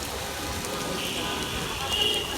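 Rain falls steadily as a soft, even patter on a shelter roof beside a graveyard on a city street, faint and continuous across the whole stretch.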